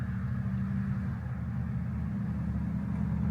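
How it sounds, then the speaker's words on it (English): Steady road traffic rumbles at a constant, moderate level, a low engine drone with a faint hiss above it and no distinct passing vehicles or talking. "I'm sorry about the traffic sounds."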